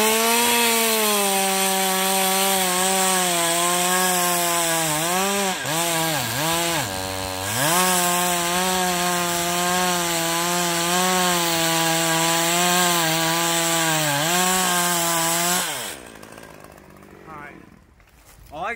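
A climbing chainsaw cuts into a big dead ash tree, loud and close with a steady high whine that bogs down and recovers as the chain bites, then stops near the end.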